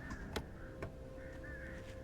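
Crows caw a few times in the Alan Wake video game, with two short distant calls heard faintly over a low ambient background.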